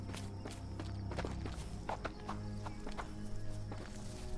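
Horse from the video game Sherlock Holmes The Awakened, with steady clip-clop hoofbeats walking close by, a brief whinny, and a continuous low game background underneath.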